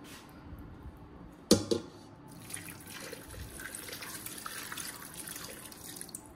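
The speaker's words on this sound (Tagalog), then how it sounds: "Tapos, lagyan natin ng tubig ng konti." Water runs from a tap into a pot, a steady soft splashing stream after a brief clatter, with no talking.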